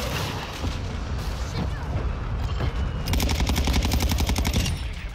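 Gunfire from the Call of Duty video game, played on the Alboran Hatchery map: dense bursts of automatic weapon fire and booming shots, with rapid rattling in the second half, loud and continuous.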